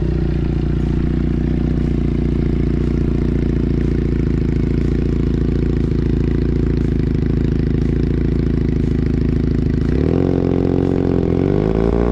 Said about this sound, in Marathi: ह्या एक्झॉस्टचा मी तुम्हाला एक हे दाखवणार आहे, आवाज कसा येतो तो.